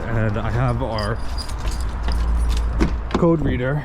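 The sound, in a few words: keys jangling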